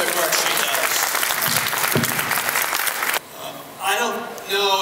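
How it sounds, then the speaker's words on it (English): An audience claps in a steady, dense round of applause that fills most of the stretch, then drops away suddenly as a voice begins speaking. "Let's give Kathy a great round of applause for the terrific work she does."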